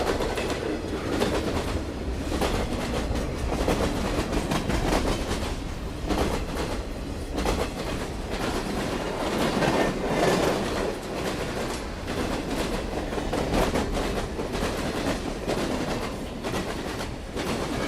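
A stream alert sound of a train rumbling steadily throughout with rhythmic clickety-clack of wheels on rails, loud and continuous with no talking.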